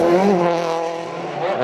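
A WRC rally car at speed on a Rally Germany stage in 2008 screams past with a high, rising engine note and tonal whine, loud and close, fading slightly before surging again.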